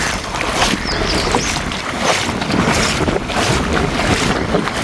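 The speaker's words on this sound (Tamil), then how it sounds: "ஆனால் நல்ல குளிர் காற்று அடிக்குது" Cold wind gusts steadily at the flooded Vattappalai Kannaki Amman temple, a loud, continuous buffeting roar rumbling against the microphone with no voices.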